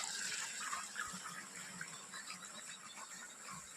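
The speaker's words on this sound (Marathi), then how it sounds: "ते अशा प्रकारे पाणी चलतंय" Water from an Oswal solar pump gushes and splashes steadily in a continuous flow, fairly quiet, with no talking.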